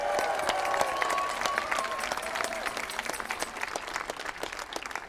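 Dense applause from a large crowd gathered in an outdoor public plaza at a protest rally, steady and loud at first, then thinning slightly, with whoops and scattered voices mixed in.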